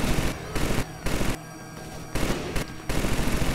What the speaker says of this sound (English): I'm going to move up with my Gatling gun.